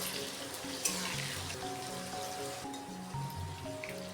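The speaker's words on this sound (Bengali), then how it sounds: "ভাজা যখন অর্ধেকের মতো হয়ে যাবে তাতে 1/2 টিস্পুনের মতো লবণ ও হলুদ গুঁড়ো দিয়ে আরও খানিকক্ষণ" Okra frying in oil with salt and turmeric added, a continuous close sizzle with light crackling and a few tonal clinks from the pan.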